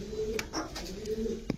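Army line pigeons coo softly in a close, low, rolling call, a few murmured coos in a short burst with faint background noise.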